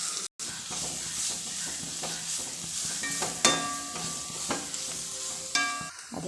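Squid masala sautés in oil in a pan, a continuous soft sizzle broken by repeated stirring scrapes and clinks, close and moderately quiet, with no talking.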